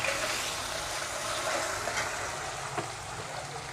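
Amudi fish, rubbed with salt and turmeric, fry in hot oil with a steady, even sizzle that holds at a moderate level throughout, with a faint clink partway through.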